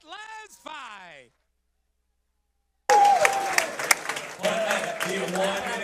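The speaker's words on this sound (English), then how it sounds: "Ladies and gentlemen, round of applause." Loud crowd applause with cheering fills a fight club event after a bout, starting abruptly and continuing steadily; a brief stretch of speech or a melodic voice precedes it, then a short silence.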